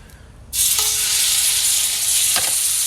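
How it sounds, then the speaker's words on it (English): Salmon fillets dropped into a hot buttered skillet burst into a loud sizzle that starts abruptly and continues as a steady bright crackling hiss, with a brief clink partway through. "now I got a good bunch of butter on that skillet, a little bit of smoke coming off it. I'm gonna start throwing these on there."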